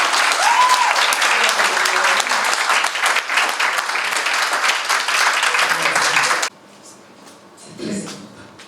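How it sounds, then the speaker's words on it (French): Wedding guests give the newly married couple a loud, dense round of applause at a civil ceremony; it cuts off abruptly near the end, leaving a quieter room with a brief muffled thump. "On peut les applaudir s'il vous plaît."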